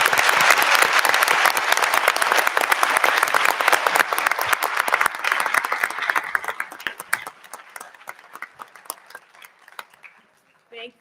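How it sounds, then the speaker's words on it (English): A high school auditorium audience at a Minnesota Supreme Court traveling oral argument gives a loud round of applause to thank counsel, which thins out and fades into scattered claps before dying away. "I want to please ask the audience to join us in a round of applause to thank counsel"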